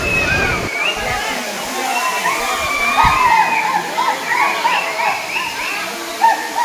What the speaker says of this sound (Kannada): ನೋಡ್ರಿ, ಓಂ ನಮಃ ಶಿವಾಯ ಅಂದಷ್ಟು ಇನ್ನೂ ಜೋರಾಗಿ ಬೀಳ್ತಾ ಇದೆ ನೀರು.